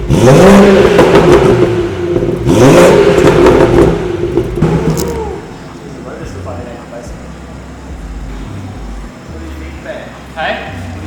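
A BMW 440i with a B58 engine and Pure 800 turbo upgrade starts and revs hard twice, each rev a loud rising and falling sweep, then settles to a quieter idle hum with voices nearby.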